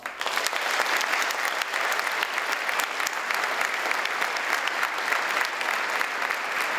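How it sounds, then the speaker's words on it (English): Students and guests at a high school Veterans Day assembly applaud in a gym-like space, a dense, sustained patter of clapping that holds at an even, fairly loud level from start to finish. "So please have a round of applause."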